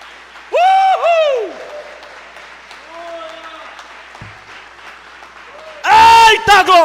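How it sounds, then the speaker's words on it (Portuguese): A church congregation applauds during an evening service, a faint clapping texture running beneath loud voices that cry out in praise near the start and again at the end. "Eu vou te dar aqui só 10 segundos para você aplaudir a Jesus"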